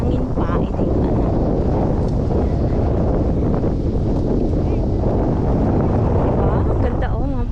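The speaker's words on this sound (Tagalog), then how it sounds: "Maano lang siya, malamig kasi mahangin." Steady, loud wind buffeting the microphone by cold water in Finland, a constant broadband roar with faint background voices.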